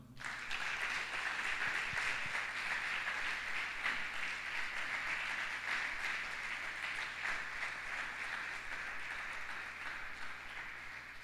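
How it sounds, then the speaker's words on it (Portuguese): Sustained applause from a church congregation, steady and fairly loud throughout, easing slightly toward the end with no voices over it. "Você pode aplaudir ao Senhor?"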